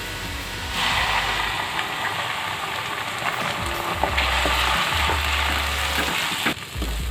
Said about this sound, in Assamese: মছলাখিনি 2 মিনিটমান সময় ভাজি ল'ম।